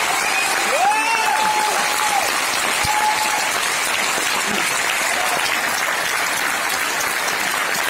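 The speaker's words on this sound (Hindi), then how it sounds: "एक बार दिल खोल के ताली बजा दे इन लोगों के लिए।" Audience applause rings out at an event, a dense steady clapping that stays loud and continuous throughout, with faint voices and a brief whistle-like tone rising over it early on.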